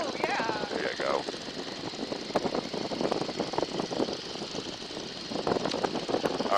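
A Stearman biplane engine drones steadily in the cockpit on landing approach, a continuous propeller hum and wind rush with no pauses.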